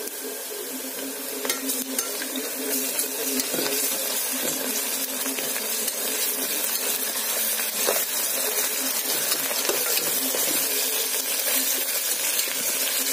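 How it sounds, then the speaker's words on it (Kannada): Onion greens and masala paste frying in hot oil for homemade palaw, a bright continuous sizzle with scattered crackles and spatula scrapes close by. "ಉಳ್ಳಾಗಡ್ಡಿ ತಪ್ಪಲಾನು ಎಣ್ಣೆಯಲ್ಲಿ ಫ್ರೈ ಆಗ್ತಾ ಇದೆ"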